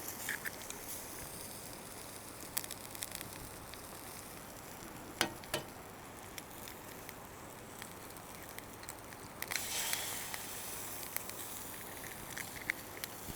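Eggs fry on a Blackstone 17 inch griddle with a soft, continuous sizzle and crackle, fairly quiet, with a few sharper pops and a brief louder burst of spatter near the end.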